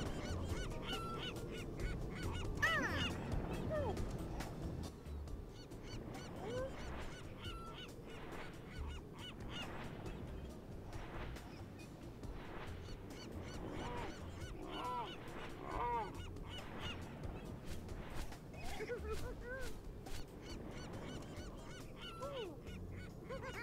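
Honking, goose-like bird calls from a seagull in the Curious George video game recur over a steady, busy game soundscape, with repeated squawks standing out at moderate loudness.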